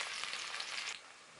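Cumin, long-cut green chilli and onion hit two spoons of hot oil in a kadhai, giving a faint, steady hiss and sizzle that drops off quickly near the end.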